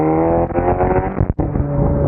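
An Audi S3 sedan with the EA888 engine, DSG gearbox and a Stone Valvetronic catback exhaust roars loud and close, its note rising steadily under acceleration, with a sharp momentary cut at a gearshift before the drone resumes.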